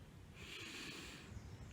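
A slow, deep inhalation through the nose, a soft airy breath rising and holding for about a second, close and quiet with no talk.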